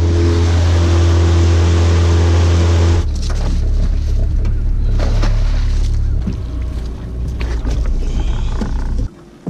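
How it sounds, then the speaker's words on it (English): An outboard motor on a fishing boat runs close by as a steady, droning hum, then shifts to a rougher, churning run for the rest of the clip. No one speaks. "There's nothing in the world like an outboard motor to put a little boy to sleep."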